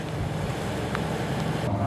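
An octopus fishing boat's engine runs at sea with an overheating fault from a blocked coolant line, a steady low rumble mixed with wind and water noise throughout.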